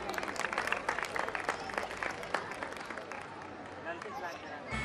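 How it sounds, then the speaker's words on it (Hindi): Audience applause at a Durga Puja festival stage event for a girls' performance, steady crowd clapping fairly distant and low, blended with general crowd murmur, tapering slightly toward the end. "जोरदार तालियां हो जाए बच्चियों के लिए।"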